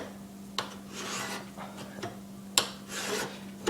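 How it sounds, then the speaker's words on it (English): A metal file held in both hands scrapes down a knife blade clamped in a vise, rhythmic rasping strokes in close succession with sharp clicks as each stroke begins. "take your file with both hands and just scrape down on the knife"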